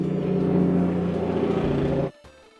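Loud car rolling past outside at night, a throaty engine drone holding steady for about two seconds before cutting off abruptly into quiet.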